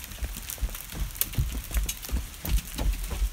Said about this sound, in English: Nice pea-sized hail.